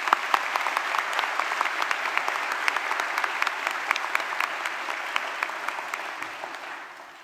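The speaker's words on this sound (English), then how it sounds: "So if we can give them a collective round of applause as well." Sustained audience applause at a university graduation ceremony, a broad, even roar of many hands clapping in a large hall with sharp individual claps standing out, tapering off at the end.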